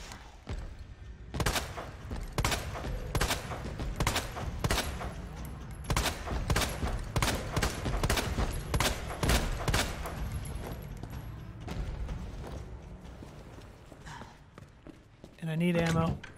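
Rapid gunfire in Resident Evil 2 as a zombie is shot down: a fast volley of sharp, loud shots with talking over them, and a brief voice near the end.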